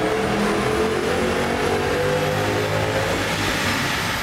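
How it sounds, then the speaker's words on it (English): A 2006 Mustang GT engine roaring at high revs on a dyno, a loud sustained pull with pitch slowly rising throughout, heard close with no talking. "we're going to pull the car down off the lift and make some dyno runs"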